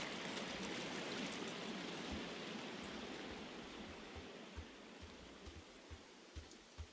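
Wading through water in the video game Firewatch: a steady rushing wash of water that slowly fades, with soft sloshing footsteps growing clearer toward the end, no voices.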